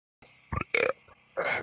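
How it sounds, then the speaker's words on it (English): Several loud, close burps follow one another in quick succession, short guttural bursts separated by brief pauses, alone against a quiet background. "Good burps, good burps."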